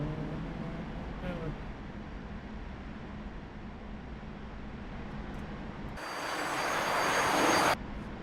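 Steady propeller engine drone from a plane in the flight simulator DCS hums throughout, swelling into a louder, hissing roar near the end before dropping back.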